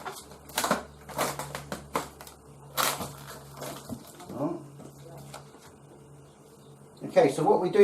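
A knife chops through diced beef brisket on a cutting board in a series of quick, close crunchy cuts, with someone talking in between strokes.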